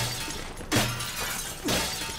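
Glass shattering in the Resident Evil 5 video game aboard a ship, two loud crashing breaks about a second apart with bright scattering debris, no talk over them.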